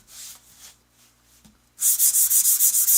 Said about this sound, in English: So I'm going to give this a light sanding.